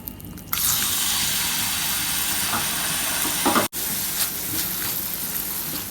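Chicken mince hits hot oil in a pan and sizzles steadily and loudly, a dense continuous frying hiss that starts abruptly after a brief quieter moment, with a momentary cut partway through before the sizzle resumes.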